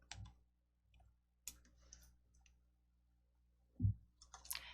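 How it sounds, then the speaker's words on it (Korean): Sharp mouse clicks on a computer during a block-coding lesson, a few separate taps spaced apart with quiet gaps between them, close and fairly soft. "학교 배경 클릭."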